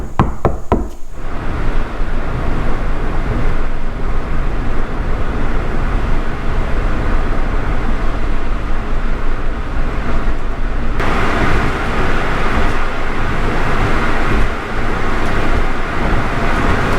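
Cabin of a car on a test drive after sound deadening, a steady loud low road and engine rumble that continues without a break, with a brief knock at the start and no talking.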